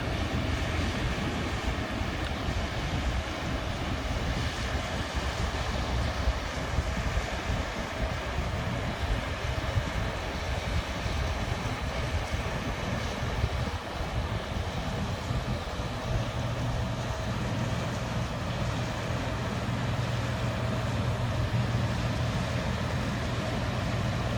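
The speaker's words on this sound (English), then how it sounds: "It's quite noisy here with all the traffic going by" A steady broadband roar of traffic noise on the Brisbane River, heard from a boat, with wind and engine-like drone holding at a constant level throughout and no talking.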